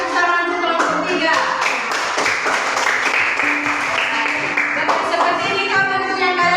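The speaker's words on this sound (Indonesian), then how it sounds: "berikan tepuk tangan untuk kelompok 3" A classroom of students claps together for group 3, a dense burst of applause that swells and then fades out after a few seconds.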